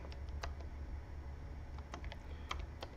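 Typing on a computer keyboard in a quiet room, with scattered keystroke clicks in irregular clusters at close range over a low steady background hum, no voices.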